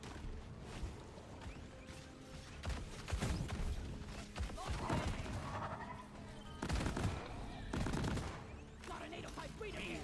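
Gunfire from a shooter in Deep Rock Galactic aimed at a breeder during a shredder swarm, with bursts of shots and crashes over a busy mix of effects and game noise, loud and near, with a voice talking at points.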